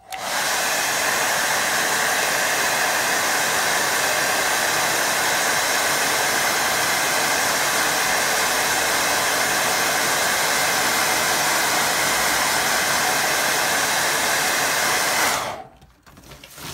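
Hair dryer blowing over wet watercolour paint on paper, a loud, steady close-up whoosh that runs unbroken for about fifteen seconds and then cuts off abruptly.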